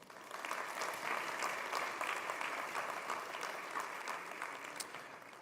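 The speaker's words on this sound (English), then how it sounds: "Please join me in thanking them with a round of applause." A sustained round of applause from an audience at a synagogue sanctuary dedication, steady and dense clapping throughout with no voices over it.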